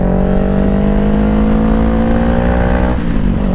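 A Honda CBR500R motorcycle engine runs loud and steady at high revs, its tone rising gradually, then dipping sharply near the end as the throttle is cut.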